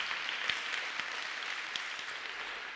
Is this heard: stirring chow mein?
no